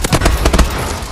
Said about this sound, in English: The way this gun sounds, it's just right.